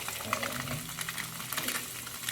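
Steady sizzling of onions frying in a pan, a close, continuous crackle with occasional stirring scrapes, no voices.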